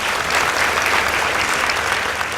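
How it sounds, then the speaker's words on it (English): Steady, dense applause from a school debate audience, loud and continuous throughout with no pauses. "Please give them a round of applause."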